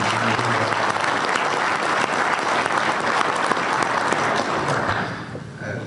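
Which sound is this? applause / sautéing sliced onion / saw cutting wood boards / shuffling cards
applause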